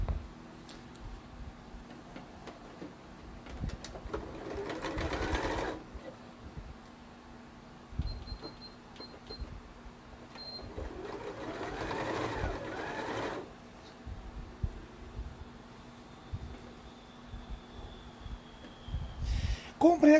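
Sewing machine stitching a seam on a fabric Ginger doll, running in two distinct bursts of a few seconds each with quieter handling noises and small clicks between them.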